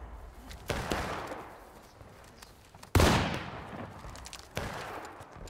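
Musket volleys in the Civil War battle game War of Rights: three sharp, loud reports, the second the closest and heaviest, each leaving a long rolling echo across open ground.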